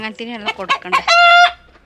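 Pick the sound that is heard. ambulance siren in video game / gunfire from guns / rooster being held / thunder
rooster being held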